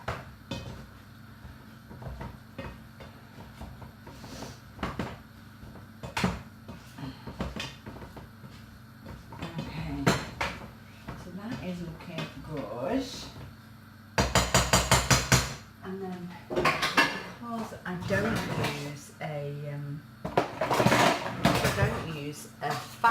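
Cooked carrots are mashed in a pan with repeated knocks and scrapes of a masher against metal, including a quick burst of rapid pounding, set among kitchen clatter and a person talking.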